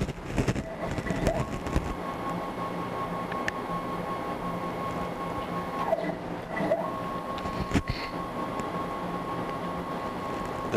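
A Tormach Duality Lathe working as a fourth axis on a CNC mill, a steady mechanical whir of its rotation with a few clicks and clunks over a constant machine-shop hum.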